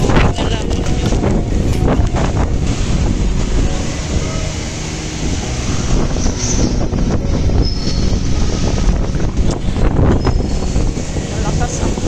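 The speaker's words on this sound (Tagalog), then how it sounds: "Malakas ang hangin dito." Strong wind roaring steadily across the microphone in a continuous rumbling buffet, with a vehicle-like drone beneath.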